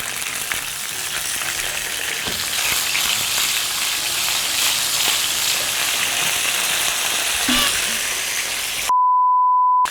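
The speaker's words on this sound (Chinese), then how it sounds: "煎的时候我用的是中小火，慢慢去煎它" Chicken pieces pan-frying over medium-low heat, a steady broadband sizzle and crackle with no talk, ending in a short electronic tone.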